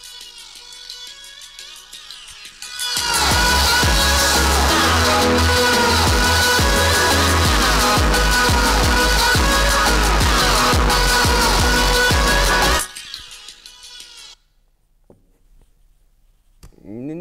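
Loud full-volume music blares through Cardo motorcycle intercom speakers for about ten seconds, dense and bass-heavy, cutting off abruptly to quieter residual sound and near silence.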